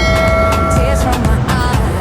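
A train passing along Taft Avenue in Manila, a loud close rush of rail noise with sustained screeching wheel tones and rhythmic rattling clatter over two seconds.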